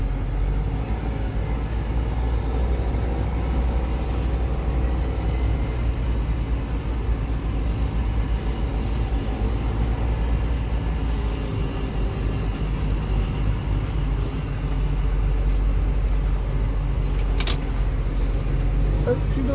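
A Puma vehicle crawls along in its low-range gearbox, a steady low engine rumble and drivetrain drone holding evenly throughout, with a brief faint click near the end.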